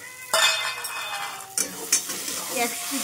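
Capsicum and tomato tumble into a pan of spice masala frying down in a Bengali home kitchen, with a sharp sizzle burst and stirring scrapes, a second sizzle flare midway, then softer stirring and light clinks.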